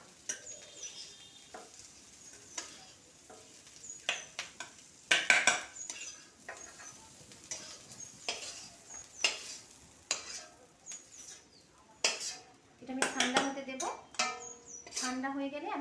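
Spatula stirring a shrimp dish in a pan, irregular scraping strokes with soft sizzling and occasional clinks of utensils against the metal, fairly close and moderately loud.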